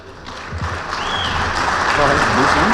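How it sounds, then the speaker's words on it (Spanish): An audience at a veterinary nutrition pre-congress in Mexico applauding a speaker; the clapping swells from quiet to a full, sustained round, with a brief murmur of voices near the start. "para quien pido un fuerte aplauso"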